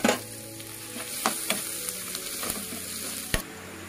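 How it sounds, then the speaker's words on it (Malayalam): Onions fry in hot oil in a pan for a coconut beef curry, a steady close sizzle broken by several sharp clicks of a utensil against the pan. "ഒരു ചട്ടിയിൽ ചൂടായിട്ട് അതിൽ എണ്ണ വെച്ചിട്ട് നമുക്ക് അതിലേക്ക് ഉള്ളിയിട്ട് കൊടുക്കാം"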